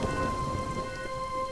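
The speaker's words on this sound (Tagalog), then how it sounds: "Meron ng ulan." Cartoon rain and thunder, Doraemon building the Earth: a brief, steady downpour hiss over a deep rolling rumble, with a faint sustained tone running through.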